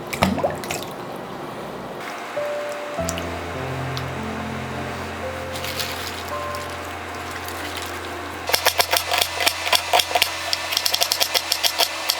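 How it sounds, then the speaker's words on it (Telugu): Onions and tomatoes are rinsed under running water for a burger stuffing, with a steady low hum throughout and a burst of quick, close splashing drips near the end. "బర్గర్లో స్టఫింగ్ చేయడానికి కావాల్సిన ఆనియన్స్, టమాటాస్ అయితే కడిగేసుకుందాం."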